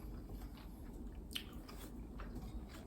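Someone chewing a mouthful of dripping brown stew chicken, with soft wet bites and mastication noises close up, fairly quiet with a few brief crunchy peaks.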